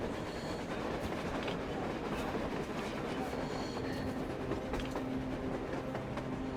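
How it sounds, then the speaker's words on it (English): Train rolling across the surface in the video game Metro Exodus, a steady broad rumble with faint clattering and a low hum, continuous throughout at moderate distance. "A train! A damn train on the surface!"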